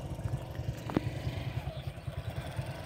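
A motorbike idles as it is pulled over at the side of a narrow village road near Tarua sea beach in Dhalchar, Bhola, its engine thudding in a low, even rhythm from close by.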